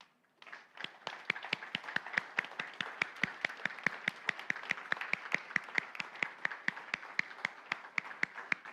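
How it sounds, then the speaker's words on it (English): A congregation welcomes newcomers during a church service with a steady round of applause, crisp rhythmic claps from nearby hands standing out over the general clapping for several seconds. "we're going to welcome you whether you do or not stand up with our applause."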